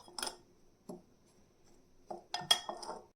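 Chili powder, salt, mustard powder and garlic being mixed in a dish, with scattered clinks and scrapes of a spoon against the bowl between quiet pauses.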